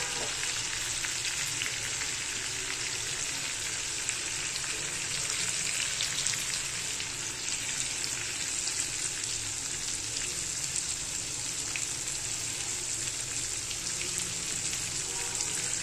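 Bangda mackerel fish fry in a pan, coated in gram flour and semolina, with a loud, steady, close sizzle that runs unbroken throughout.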